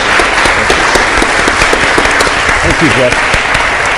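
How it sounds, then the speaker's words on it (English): Audience applause after an election debate on energy and environment at a law school, loud continuous clapping from a crowd with someone briefly speaking over it near the end. "And let's give a round of applause for our representatives."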